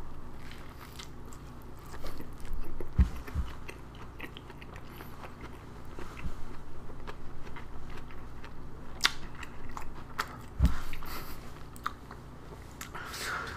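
Bites and chewing of Korean toast layered with ham and pickles, with crunchy bite marks near 3 and 10.5 seconds over a low room murmur, close and moderately quiet.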